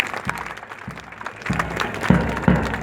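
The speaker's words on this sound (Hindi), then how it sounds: "शानदार तालियों का तोहफा मिलना चाहिए साहिबान" Audience at a camel show at the Jaisalmer desert festival clapping, a moderately loud, fairly steady patter of applause that swells slightly toward the end, with crowd noise and a voice over a loudspeaker mixed in.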